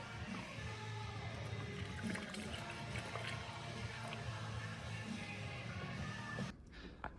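Coolant pours into the filler neck of a Toyota MR2, a continuous liquid gurgle and splash at close range that runs steadily, then cuts off abruptly near the end.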